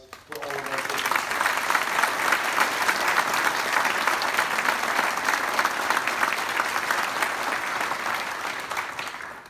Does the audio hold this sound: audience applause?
yes